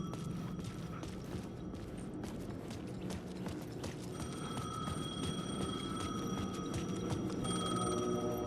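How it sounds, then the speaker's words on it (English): Payphone ringing in the video game Alan Wake 2, a repeated electronic ring over a faint clattering ambient background, fairly quiet with no talking. "The payphone was ringing."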